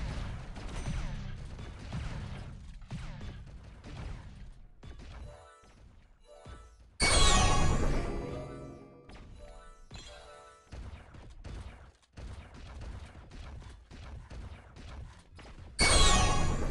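Gunfire from a weapon in the video game Thetan Arena, heard as clipped mechanical shots and crashing impacts mixed with game music, with two sudden loud bursts standing out.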